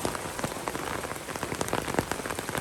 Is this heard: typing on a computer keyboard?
no